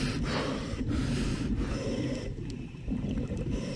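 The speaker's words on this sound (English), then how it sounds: "Listen to his breathing though." A scuba diver recorded on a GoPro breathes heavily and laboriously underwater, with repeated gasping, snorting draws and muffled bubbling exhalations close to the microphone, alone without talk.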